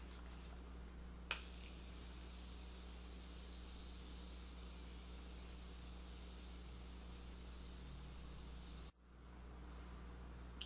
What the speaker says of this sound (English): we'll go ahead and set the face with the Morphe Continuous Setting Spray, and I spray a lot.